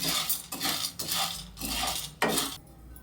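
Dry chana dal roasts in a pan without oil, the lentils rattling and scraping under repeated stirring strokes that come in bursts roughly every half second, close and clear, with no talk.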